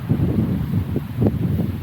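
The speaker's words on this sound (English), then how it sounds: "It's got really windy in here," Low, gusty wind rumbles and buffets close by, with a few brief surges of rushing air and no voices.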